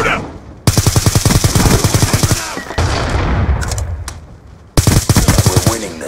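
Rapid automatic gunfire from the video game Call of Duty: Black Ops 2, loud and close, in two long sustained bursts separated by a stretch of quieter battle noise and scattered shots.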